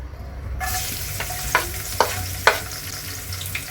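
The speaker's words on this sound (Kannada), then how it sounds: "ಇವಾಗ ಕಟ್ ಮಾಡಿ ಇಟ್ಕೊಂಡಿದ್ವಲ್ಲ ಸಣ್ಣದಾಗಿ ಬೆಳ್ಳುಳ್ಳಿ, ಅದು ಹಾಕೊತಾ ಇದ್ದೀನಿ" Finely chopped garlic drops into fully heated oil and bursts into a steady, bright sizzle, with a few sharp clinks of stirring over the crackling fry, close and alone.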